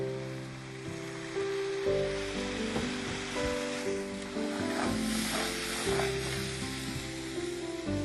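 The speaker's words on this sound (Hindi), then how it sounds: "इतने हमारा मसाला भुनता है" Whole-spice masala with green cardamom, cloves and black pepper frying in a pan, a continuous soft sizzle with faint stirring scrapes, steady and close, without speech.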